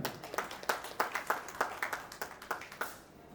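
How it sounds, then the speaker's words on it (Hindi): An audience at a Lions Club installation ceremony claps in a quick, uneven rhythm for a few seconds, moderately loud, then fades out. "inauguration of A swing centre, इसके लिए भी जोरदार ताली"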